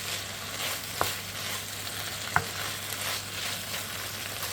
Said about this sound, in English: I'm just going to give this a good stirry-wiry.